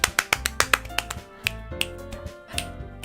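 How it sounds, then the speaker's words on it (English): Crisp finger snaps come in a quick run of about a dozen sharp clicks, spaced irregularly and fairly close, with no voices and a faint musical tone underneath. "I need more snaps."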